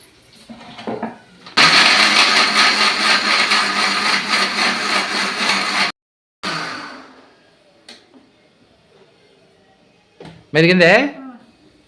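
A kitchen mixer grinder blends masala paste with water, a loud whirring burst of several seconds that stops abruptly, followed by a short restart, with talk around it.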